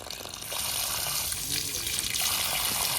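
Hands splashing water while washing a face, a short run of wet splashes and running water close by, with a voice talking over it.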